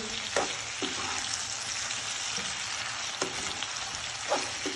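Diced potatoes with cumin sizzle and fry steadily in a pan on a gas stove, dry spiced potatoes with chaat masala stirred in, with a few scraping stirs of a spoon against the pan over the continuous crackle.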